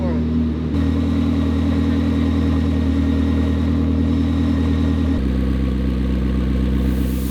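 A McLaren P1 hybrid engine converted to 4.0L idles after start-up with a steady low rumble up close, its tone shifting slightly partway through, continuous throughout.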